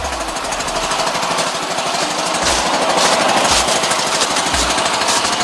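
A lawn mower engine runs steadily after a carburetor cleaning with fresh gas, a new fuel filter and an oil change, giving a loud, close, rapid chugging rattle without pause and a few heavier thumps.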